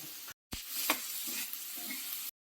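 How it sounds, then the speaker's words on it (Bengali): A steady sizzle of onions and chillies frying in a hot pan, close up, with a brief gap and a few stirring clicks. "ভাজা ভাজা হয়ে গেছে পেঁয়াজ আর লঙ্কাটা"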